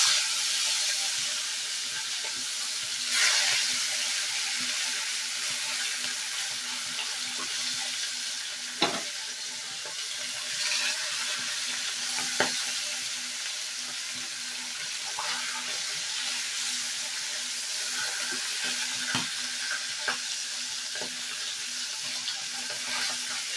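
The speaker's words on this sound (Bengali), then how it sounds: "তো আমি মাছটাকে এবার ভেজে নেব।" Puti fish sizzle steadily in hot oil in a wok, a continuous close frying hiss with occasional sharper pops and crackles throughout, and no talking.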